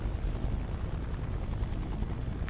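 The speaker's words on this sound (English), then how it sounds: "Don't let the chopper find you." A helicopter flies overhead in Call of Duty Cold War, making a steady loud rotor drone with a thin high whine throughout and no speech.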